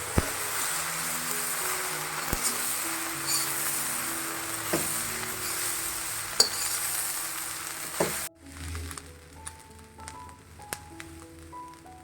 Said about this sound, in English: Soya sauce. We'll toss this up.